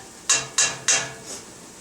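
Three sharp metallic scrapes from stirring onion and garlic in a pot while making cabbage soup, evenly spaced and close, followed by a softer fourth scrape.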